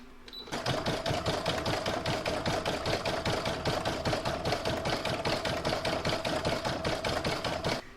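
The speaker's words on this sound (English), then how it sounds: "I'm going to put that in my machine and stitch round number 7" An embroidery machine stitches one round of a floral in-the-hoop topper design, a fast, even, rhythmic mechanical chatter that runs close and continuous from start to finish.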